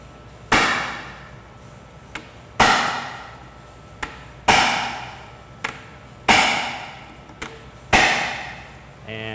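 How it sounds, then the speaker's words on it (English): A hammer whacking a manual impact driver set in a stripped bolt, five sharp metallic strikes at a steady, roughly two-second rhythm, each ringing briefly, with lighter taps between some blows. "I'm just going to give it a nice whack"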